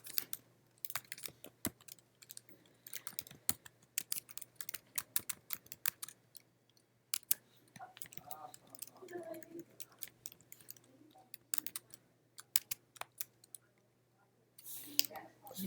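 Someone types on a computer keyboard while filling in commercial auto insurance vehicle details, keystrokes clicking in quick irregular bursts with short pauses, fairly close and clear.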